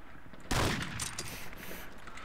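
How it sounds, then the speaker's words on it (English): Gunfire in a first-person shooter video game: a sudden loud burst of shots starts about half a second in, followed by quieter rattling fire that continues under the game's ambient sound. "Hacker, you're shooting me through the walls."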